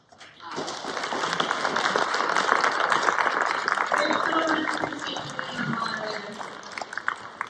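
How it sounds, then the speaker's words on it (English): Audience applause at a gubernatorial candidates forum in Pendleton, Oregon, a dense steady roar of many hands clapping that swells in after half a second and holds loud and even to the end, with faint voices beneath. "a big applause a big hand for Bill"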